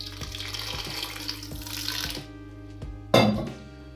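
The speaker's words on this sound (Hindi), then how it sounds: "वापस पानी डालेंगे 100 ml" Water, 100 ml, is poured into a sweet-and-sour amla candy mixture with coarsely crushed black pepper, a close trickling splash that runs for about two seconds, then a brief louder splash near the end.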